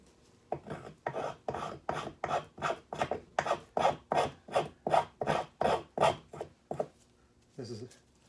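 Freshly sharpened spokeshave taking fine wood shavings in a quick, steady run of about fifteen close, crisp swishing strokes, then a short softer scrape at the end.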